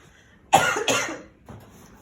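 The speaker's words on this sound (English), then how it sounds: "Go ahead and cough it out if you need to." Two sharp, close coughs in quick succession during a head-to-toe physical assessment, followed by a softer breathy exhale, with quiet room tone around them.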